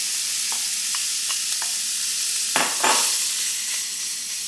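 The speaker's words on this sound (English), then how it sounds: "You're going to cook your bacon off in a cast iron skillet" Bacon fries in a cast iron skillet with a steady, bright sizzle and crackle, broken by a few close scrapes and stirs of a utensil against the pan.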